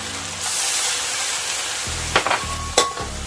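Cashew nuts are stir-fried in a hot pan with sauce for a chicken-cashew dish: a steady close sizzle with the scrape and clink of a utensil stirring, and a few sharper knocks near the end.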